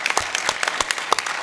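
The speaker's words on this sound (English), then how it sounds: "so give him a round of applause" Audience applause at a live Pathfinder tabletop RPG game at GenCon 2015, a short burst of scattered hand claps from a modest crowd, fairly near and unaccompanied by talk.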